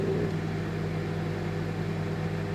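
An Arçelik MD2310W microwave oven running, a steady low electrical hum with a constant whirring drone, close and unbroken throughout, no voices.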